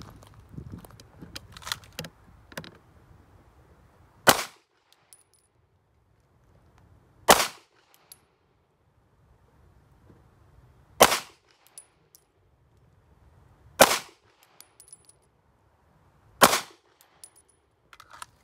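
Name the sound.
five slow-fire pistol shots at a target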